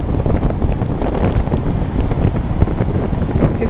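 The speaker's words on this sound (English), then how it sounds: "Very blowy today, not very fine." Strong gusty wind at a Gold Coast beachfront apartment balcony fifteen floors up buffets the microphone with a loud, continuous low rumble and no talk.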